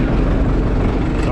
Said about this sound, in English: So I hit the key and it was like instantly starting